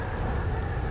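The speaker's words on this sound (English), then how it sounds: "I think a storm is coming." A storm with steady heavy rain and low rumbling thunder in the video game Outer Wilds, a dense continuous wash of noise with no talk.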